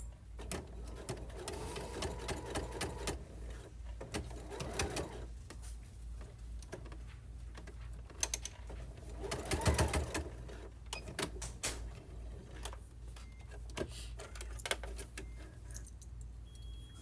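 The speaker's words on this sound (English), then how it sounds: "So I usually start with just go ahead and sew that part closed." Sewing machine top stitching a replacement zipper into pants, a rapid, steady mechanical whir and ticking of the needle running in bursts with brief pauses, close and quiet.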